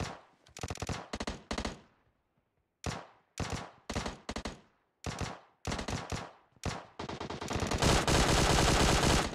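Heavy automatic gunfire in the mobile battle-royale game PUBG Mobile, loud bursts of rapid shots separated by short pauses, ending in one long sustained volley.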